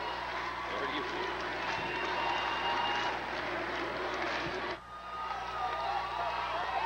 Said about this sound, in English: A lot of cheering going on the Wahoo side of the floor